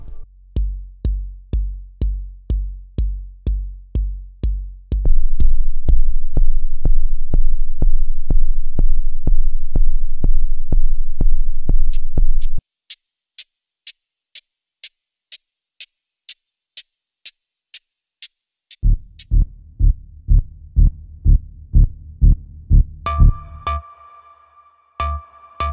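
Synthesizer patches built from Twin 3 presets: first a fast, regular pulsing bass line, then a steady stream of bright high ticks alone, followed by thumping bass plucks and finally a buzzy tonal lead, loud and clean with no voices.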